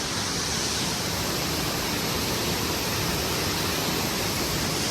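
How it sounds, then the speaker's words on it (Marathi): Domzira waterfall in Jawhar, Palghar, flows all year round and gives a dense, continuous roar of falling water, loud and unbroken, with no voices. "हा डॉमजिला वॉटरफॉल आहे. हा 12 महिने वाहणारं पाणी."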